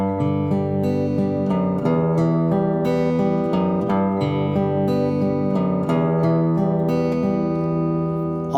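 Acoustic guitar plays a song with the bass line moved up one string, picked arpeggiated chords ringing clearly in a steady, gentle rhythm, close and alone.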